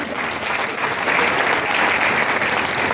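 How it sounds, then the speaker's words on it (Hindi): Loud, sustained applause from a large audience, a dense wash of clapping that swells slightly and holds steady throughout. "जोरदार ताली एक बार"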